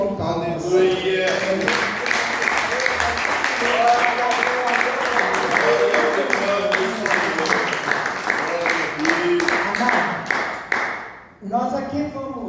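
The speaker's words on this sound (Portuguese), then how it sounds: "Os irmãos podem assentar aplaudindo o Senhor, exaltando o nome dele com palmas" A church congregation claps in praise, sharp hand claps landing in a steady, regular rhythm for about eleven seconds alongside prominent voices, then stopping briefly before voices resume.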